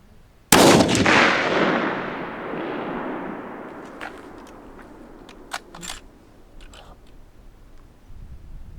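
A single loud rifle shot cracks out while a scope is being sighted in, followed by a long rolling echo that fades over several seconds, with a few faint clicks afterward.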